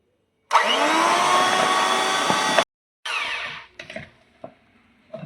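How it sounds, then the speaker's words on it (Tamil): Electric hand mixer beating sugar and butter for a no-oven pineapple upside-down cake batter: a loud steady whirring burst of about two seconds, a pause, then a shorter run followed by clinks and knocks against the bowl. "சுகரும் பட்டரும் போட்டு பீட் பண்ணியாச்சு"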